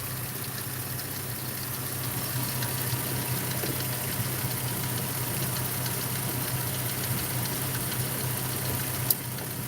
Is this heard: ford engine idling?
yes